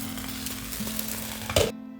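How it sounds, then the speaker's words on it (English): A potato and egg omelette with chillies cooks in a covered pan over a low flame, giving a steady close sizzle, then a brief louder clatter near the end before the sound cuts out. "Cover the lid and cook for another 3 minutes at low flame until the edges turn slightly brown."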